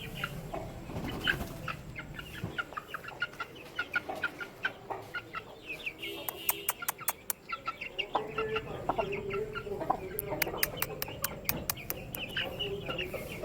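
Thai Shamo and Aseel chicks and chickens are kept at home. They cluck and peep in quick, repeated bursts nearby, with high chirps and a soft murmur of background activity.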